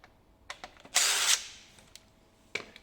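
A power drill backs out the main fixing screw of a uPVC window hinge with one short, sharp whirring burst, surrounded by faint clicks and taps, close and quiet overall.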